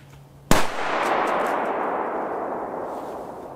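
A Hua Liang firecracker explodes once with a sharp, loud bang heard from some distance, followed by a long echoing rumble that fades slowly outdoors.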